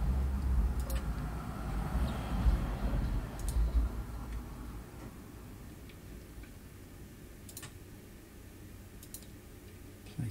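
A few faint, sparse computer mouse clicks, spaced seconds apart, over a low background rumble.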